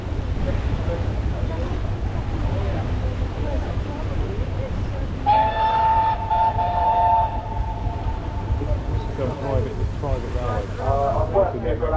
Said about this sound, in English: you see the train just going across the viaduct there